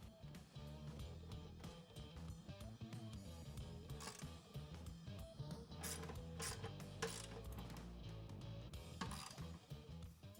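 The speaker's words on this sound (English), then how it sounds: "we're gonna go back through and tighten down all of the hardware. I'm just using a 13mm deep socket and" A socket wrench with a 13mm deep socket tightens pannier rack bracket hardware with a fast, faint clicking ratchet. Rhythmic bursts come in short strokes, interspersed with metallic handling clinks, close but quiet.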